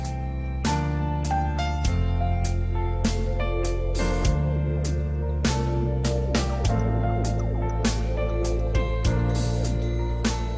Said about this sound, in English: That's the sound of a minute repeater